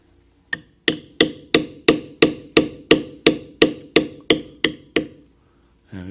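A beveling tool is struck by a mallet about thirteen times while tooling a Celtic design into leather. The taps are sharp and evenly spaced, close up and alone, then fall quiet.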